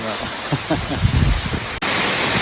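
Rushing water of the San Giovanni waterfalls on the Maiella mountain in Abruzzo, heard from behind the falling water as a dense, steady roar, with low churning under voices at first, then a sudden cut to a continuous bright hiss.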